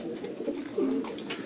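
A breeding pigeon coos nearby, a soft low throaty warble repeated a couple of times against quiet background noise.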